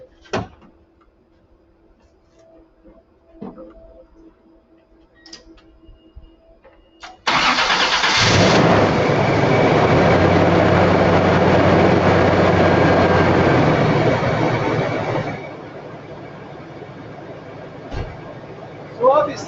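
A car's starter cranks and the engine catches and roars loudly for several seconds, then settles to a lower idle, following quiet clicks and faint handling noises in a starting-system check.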